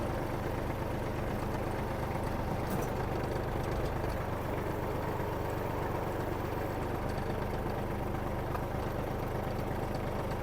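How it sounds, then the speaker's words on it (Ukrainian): A Kubota GL-29 mini tractor's diesel engine runs steadily at idle during a hydraulic hitch test, a constant close rumble with no clear changes in pitch or load. "Зараз перевіримо, як працює навісне обладнання."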